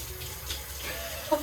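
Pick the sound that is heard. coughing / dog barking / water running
water running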